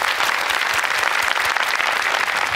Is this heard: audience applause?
yes